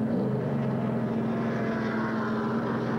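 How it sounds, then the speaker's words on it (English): An ARCA stock race car engine idling and running in the pit at Michigan in 1990, a steady loud droning hum that holds constant throughout, no voices. "The engine has started back up"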